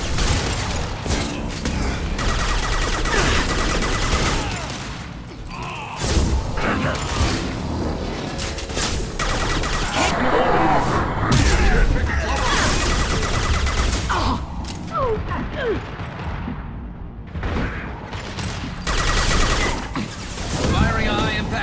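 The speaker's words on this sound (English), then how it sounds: "Firing a high impact shot." Gunfire and high-impact shots in the video game Mass Effect 2, loud and continuous, with booms and mechanical clatter mixed with game voices and effects throughout.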